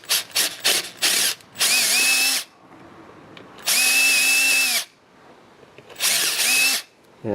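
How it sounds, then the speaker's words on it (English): A power drill bores out the stripped threads of an oil drain plug hole, running in three separate bursts of whining, grinding drilling close by, with short quiet gaps between them and a few brief clicks at the start. "line up your drill totally straight with the drain hole"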